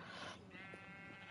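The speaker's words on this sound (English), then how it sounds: "Those sheep are like getting like freaking crammed" Sheep in a video game bleat in quick succession, loud and close, with a wavering, nasal cry standing out over a busy in-game background.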